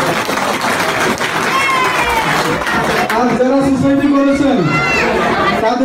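A large crowd at a Comilla Society USA inauguration ceremony in 2019 claps and cheers in sustained applause, with a voice speaking over the noise.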